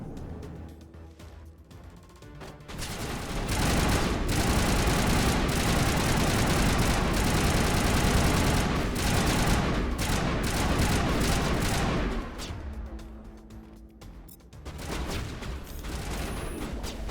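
Sustained pistol fire and explosive combat noise in Mass Effect run as a dense, loud barrage with an engine-like rumble underneath, then ease off near the end.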